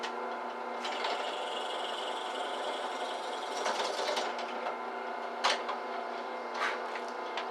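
A Mastercraft 10-inch drill press bores holes through a workpiece clamped in a cross slide vise, a steady whirring motor hum broken by sharp scraping and grinding bursts as the bit cuts, close and clear.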